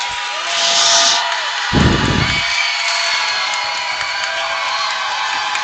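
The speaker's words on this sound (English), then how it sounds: "Emporia crowd trying to make noise" Crowd noise from Emporia fans at a high school basketball game against Washburn Rural on senior night, a broad roar of shouting and cheering that swells and holds, with a brief louder burst partway through.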